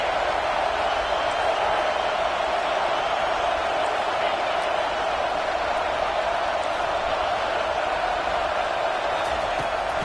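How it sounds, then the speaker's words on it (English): Home crowd roaring in a stadium in College Football 2027, a dense, steady wash of cheering that stays at one level throughout. "Now the crowd responding in the red zone"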